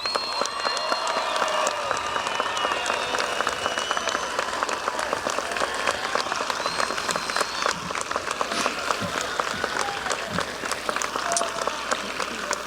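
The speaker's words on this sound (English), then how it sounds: "would you please stand for a round of applause?" A high school graduation audience gives a long, steady round of applause for students joining the military, dense clapping from a large crowd, loud and continuous throughout.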